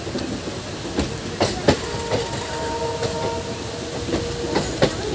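A mountain train runs on its rails through hilly terrain, entering tunnels one after another: a steady rolling rumble broken by sharp, irregular wheel clicks, with faint tonal squeals in the middle, and no voices.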